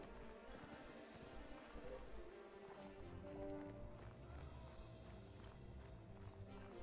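Horse hooves gallop in a Mount & Blade: Warband multiplayer castle siege battle, a steady rapid clip-clop running under busy battlefield noise and music, with voices faintly present.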